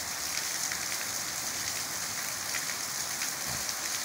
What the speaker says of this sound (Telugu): చూడండి ఇట్లా ఎట్లున్నది వర్షం